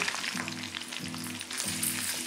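Sliced onions sauté in a pan for mushroom pepper rice, a soft steady sizzle close by with a low intermittent hum underneath.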